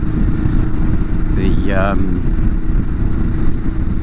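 A Ducati Hyperstrada motorcycle riding out to a club meet, its engine a steady low rumbling drone beneath strong wind noise, with a brief rising tone partway through and a voice heard briefly.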